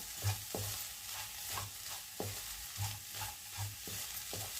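A spatula repeatedly scrapes and turns a spicy tomato egg fry in a pan, making regular rhythmic scraping strokes over a steady sizzle, close and moderately loud, with no talking.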